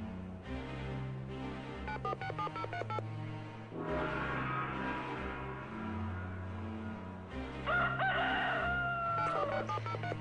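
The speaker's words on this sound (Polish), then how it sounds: "No tak, kogucik pieje." A rooster crows in bursts over a busy background of electronic tones and music, the call moderately clear amid the layered sound.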